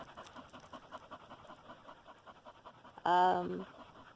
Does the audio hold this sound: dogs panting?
yes